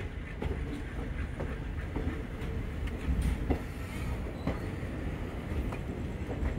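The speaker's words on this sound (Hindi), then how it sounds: "ये जो रेक शंट हो रहा है ये है 12133 मुंबई CSMT मंगलुरु एक्सप्रेस" Rake of the 12133 Mumbai CSMT Mangaluru Express being shunted, giving a continuous low rumble of rolling railcars with faint wheel clatter and occasional squeal, steady and fairly close.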